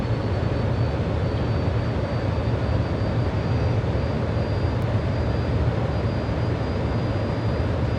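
An F-14D Tomcat in Microsoft Flight Simulator 2020 over Kuwait City gives a steady, loud, broadband jet roar that holds constant throughout with no talk.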